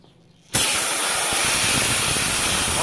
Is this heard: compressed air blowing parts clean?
yes